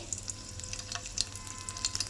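Garlic frying in oil as a tempering for a fenugreek leaf, broad bean and tomato curry, a steady soft sizzle with faint crackles and a low background hum.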